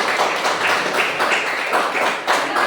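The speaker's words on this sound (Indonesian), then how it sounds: "Tepuk tangan untuk teman-teman." Students in a classroom clap for their classmates during a coding and computational thinking lesson; lively, close group clapping with a bouncy, uneven rhythm runs throughout, with no talk.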